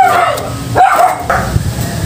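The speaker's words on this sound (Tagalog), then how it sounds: "medyo maingay yung aso" A dog barks a few sharp, close yips and barks near a car being inspected for brake rust, loud and alone over a quiet background.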